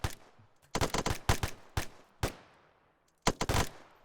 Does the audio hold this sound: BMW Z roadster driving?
no